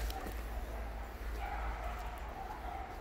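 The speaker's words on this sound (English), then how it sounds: "I don't know if you can hear the dogs." Dogs barking somewhere off in the distance outdoors, faint and intermittent beneath steady background noise.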